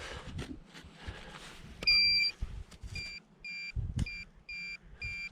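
A metal detector on a beach emits a series of electronic beeps, one longer tone followed by several short repeated bleeps, against faint handling and rustling noises.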